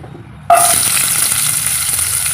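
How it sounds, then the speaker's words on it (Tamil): Shallots, tomato, ginger and garlic drop into a hot pan and burst into a sudden loud sizzle that continues as a steady close hiss. No one speaks. "சின்ன வெங்காயம் தக்காளி இஞ்சி பூண்டு இதை வதக்கிட்டு அரைச்சிக்கலாங்க"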